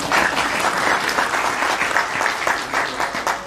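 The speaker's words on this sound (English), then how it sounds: "Applause." Applause from a congregation at a tribute evening for a rabbi and his wife, a short burst of loud, dense clapping held at a steady level.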